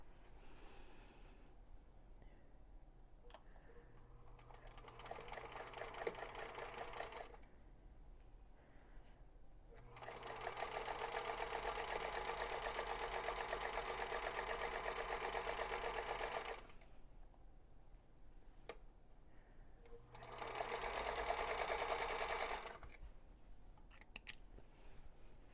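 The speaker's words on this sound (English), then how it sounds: "we're going to start here again and sew on that line" Sewing machine stitching a fabric square along a marked line for a flying geese quilt block, running in three bursts of steady motor whir and needle chatter separated by quiet pauses.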